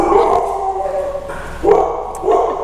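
A dog barks and yips in a few short, high-pitched bursts close by, with whiny howling tones between them.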